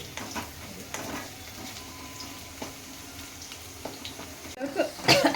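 Okra and potatoes frying in a pan, a continuous low sizzle with occasional stirring clatter, growing louder and busier at the very end.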